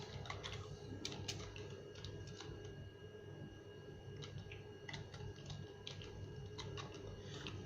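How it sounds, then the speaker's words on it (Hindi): Quiet, irregular clicking of keys on a computer keyboard in bursts over a faint steady hum, no voices. "और उसके बाद आप पासवर्ड टाइप कर सकते हैं"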